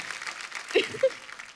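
A studio audience on the Kapil Sharma Show applauding actresses Kriti Sanon, Pooja Hegde and Kriti Kharbanda as they walk on: a soft, diffuse wash of clapping, with a few brief voice fragments rising above it.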